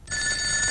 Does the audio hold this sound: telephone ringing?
yes